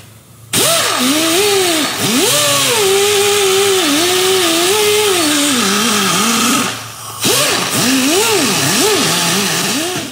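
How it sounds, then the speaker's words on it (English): A rotary tool cuts a light chamfer around a clutch bearing bore, giving a loud, whining drone whose pitch keeps rising and falling. It starts after half a second and briefly cuts out near the end. "I just like to take it and just put like a light chamfer around the outside of it"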